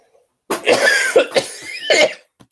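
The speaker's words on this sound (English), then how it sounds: "I've got a cough today" A close, harsh cough bursts out in several quick hacks, loud and alone against silence.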